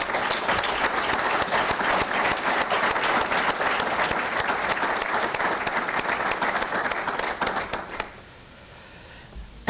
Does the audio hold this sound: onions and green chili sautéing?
no